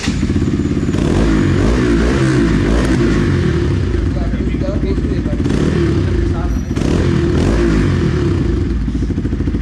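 A Bajaj Pulsar NS200 motorcycle with an aftermarket exhaust revs loud and close, holding a rough, continuous throbbing roar throughout.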